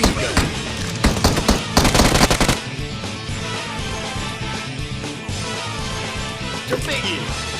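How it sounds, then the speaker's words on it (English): Rapid heavy machine gun fire from the Metal Slug arcade game, a loud dense burst of shots in the first seconds, then fading into busy game music and effects. "Heavy machine gun."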